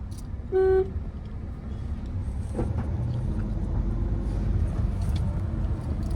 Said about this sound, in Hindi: हॉर्न दीजिए, चलो।